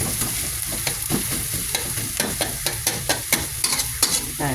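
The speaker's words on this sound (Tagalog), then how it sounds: "Fry mo muna siya ng kaunti." Ingredients frying in a pan while being stirred, a loud close sizzle with rhythmic scraping strokes of the spatula and no talk.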